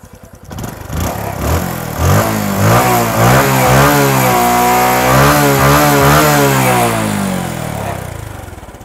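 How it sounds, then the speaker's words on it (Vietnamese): A Honda Wave motorcycle fitted with an aftermarket exhaust revs loudly up close, its engine note climbing and falling through several throttle blips before settling into a sustained high rev and easing off at the end. "Nó có cái bô, nó có thêm cái bộ xử lý khí thải này, cái tiếng máy nghe nó khác thiệt nè mày"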